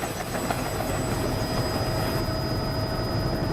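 Steady loud helicopter rotor and engine roar heard from inside the aircraft during a flight, continuous and unbroken with no talk.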